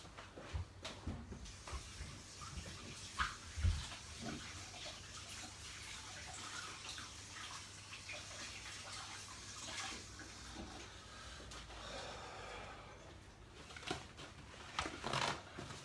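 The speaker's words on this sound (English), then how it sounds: "Let's wash our hands." Hands being washed under a running kitchen tap during a home cookery lesson, a quiet, uneven splash of water with a few bumps and clatters nearby.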